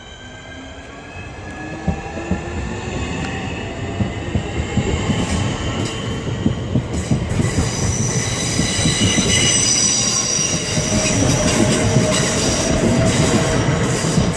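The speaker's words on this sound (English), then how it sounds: "And it's now departing." A Class 465 electric multiple unit pulling out of Charlton station, its steady rising hum and rolling wheel noise building loud and close, with faint wheel squeal and clicking rail joints, no voices.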